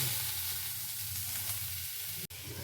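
Pepper and papaya vegetables sizzling in a pan as they are stirred, a steady close frying hiss with one sharp clack near the end.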